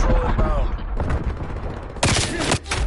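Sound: hand cannon gunfire in a video game

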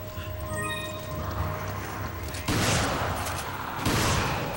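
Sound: rifle gunfire from video game Resident Evil 5

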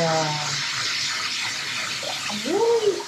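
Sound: shower water running

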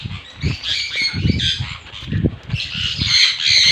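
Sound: birds squawking in an aviary

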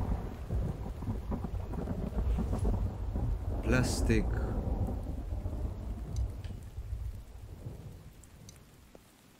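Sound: rain and thunder in a video game

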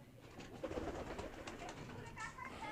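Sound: pigeon cooing on a pigeon farm

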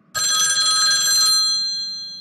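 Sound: telephone ringing

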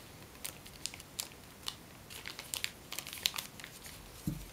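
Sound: paper being folded into an origami valley fold

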